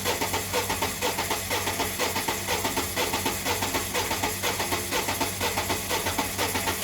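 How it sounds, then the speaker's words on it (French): A three-cylinder car engine cranks on its starter with the throttle held open for maximum air, a steady rhythmic whirring pulse that keeps on without catching, loud and alone. "On actionne le démarreur"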